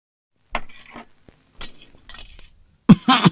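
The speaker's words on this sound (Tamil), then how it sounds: "ஐயோ, எப்பவும் இருமல் வருமா?" A man in a Tamil film scene gives a few short, rough coughs in separate bursts, close and fairly loud, with a harsher hack at the end.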